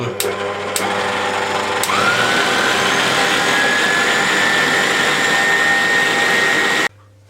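An electric stand mixer with a dough hook beats plain flour dough for Persian bread, giving a loud, steady motor whine that runs continuously and close by, with a few clicks at the start before cutting off abruptly near the end.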